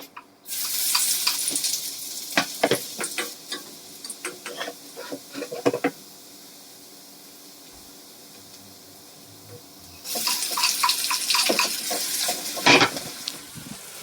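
Oil sizzles and crackles loudly as garlic and onion fry for a kadhi tempering, with stirring scrapes, then a quiet pause before the sizzling surges again near the end.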